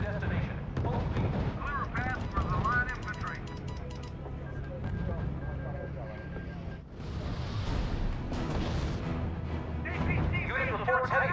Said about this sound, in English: Unit reports heavy fire. Unit opening fire.